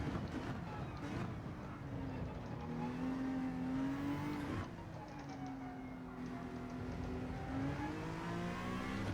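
A Honda NSX GT3 race car in Gran Turismo 7 at Lago Maggiore, its engine whining continuously at moderate volume, pitch rising through the revs, dropping at a shift, then climbing again.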